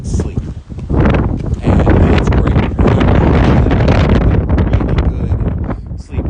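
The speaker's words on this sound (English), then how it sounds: "I apologize for the wind sound. I know it's really loud," Loud, continuous wind buffeting the microphone, roaring and gusting throughout, with a person speaking briefly beneath it.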